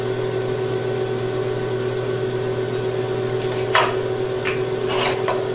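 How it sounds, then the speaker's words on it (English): A propane torch preheating a crucible for melting copper gives a steady, close roaring hiss over a constant hum, with a few brief scraping clinks near the end. "We're going to preheat the crucible here with the propane torch."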